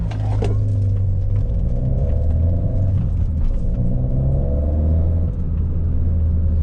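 A Peugeot 208 GTI with 200 hp and an Akrapovic exhaust roars loudly under acceleration, its deep engine note rising and holding through gear pulls with a brief dip near the end, heard from inside the car with no talk.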